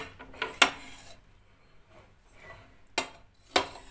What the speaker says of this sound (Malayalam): മിക്സ് ചെയ്യുമ്പോൾ വളരെ ശ്രദ്ധിച്ച് മിക്സ് ചെയ്യുക, പൊടിഞ്ഞു പോകരുത്.